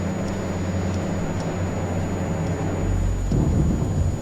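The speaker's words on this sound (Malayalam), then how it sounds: "ഭയങ്കര ഇടിവെട്ടാട്ടോ അവിടെ" Thunder in the Slenderman horror video game rolls as a deep, continuous rumble that swells louder toward the end, with no voices.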